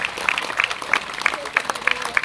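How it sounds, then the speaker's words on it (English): Applause from a flower show crowd, a moderate patter of clapping with a few sharp, distinct claps standing out near the front and faint voices underneath. "Can you give yourselves a round of applause just so we fully get into the spirit of things?"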